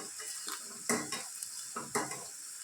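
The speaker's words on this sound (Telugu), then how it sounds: "కాలిన వాటిని ఇలా తీసుకోవాలి దోరగా గోల్డెన్ కలర్ వచ్చేంత వరకు వేయించుకోవాలి" Rice flour crackers (chekkalu) fry in hot oil with a steady sizzle, and utensils clatter and scrape against the pan in a few sharp bursts.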